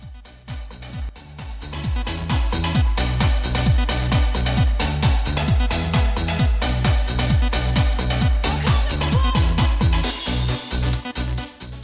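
Driving late 1990s trance music with a pounding four-on-the-floor beat, bright synth layers and a steady, energetic groove.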